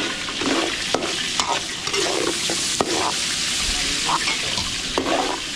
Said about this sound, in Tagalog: Nagpiprito siya ng tempura. Tempura mga beli.